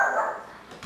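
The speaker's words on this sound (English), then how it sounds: "my dogs are barking in the background" A few dogs bark faintly in the background of a home kitchen, a short, soft burst with no talk over it.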